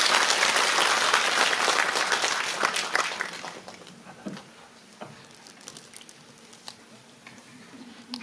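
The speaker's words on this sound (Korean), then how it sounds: "다시 한번 좋은 말씀 해주신 이정식 이사장님께 박수 한번 부탁드리겠습니다" A seated audience at a community education event claps in a full burst that gradually thins over a few seconds, trailing into scattered claps and room noise.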